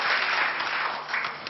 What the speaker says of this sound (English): Please have a round of applause to all of them.